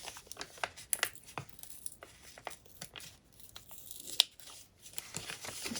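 Paper being gently peeled off a page of an old envelope-book junk journal, heard as soft intermittent tearing and crinkling close by, with irregular small rips and rustles and no talking.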